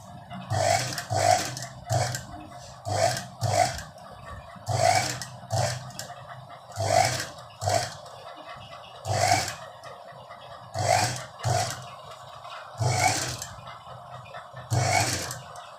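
A sewing machine stitching a cut-work blouse runs in short, repeated bursts of a few seconds each, with brief pauses between them, close up and steady, with no talking.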